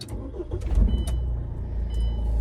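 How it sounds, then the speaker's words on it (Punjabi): A Mahindra XUV500 SUV with a diesel engine starts up, a brief cranking catch followed by a steady low idle rumble, heard close from inside the car with a couple of faint electronic chimes. "ਤੇ ਇੱਕ ਵਾਰ ਆਪਾਂ ਕਾਰ ਨੂੰ ਸਟਾਰਟ ਵੀ ਕਰ ਲੈਂਦੇ ਹਾਂ।"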